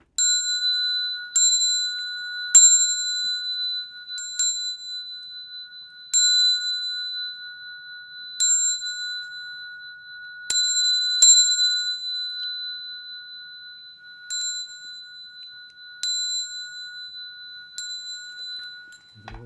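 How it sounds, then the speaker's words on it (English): A meditation bell at a Buddhist sutra lecture rings in clear, bright strikes, each followed by a long sustained ringing decay, spaced several seconds apart in a quiet room. "I'm going to ring the bell 3 times"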